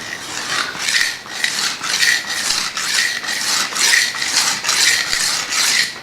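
Steady back-and-forth rasping of a knife blade drawn across a wet diamond sharpening stone, about a dozen even strokes in a regular rhythm, close and fairly loud.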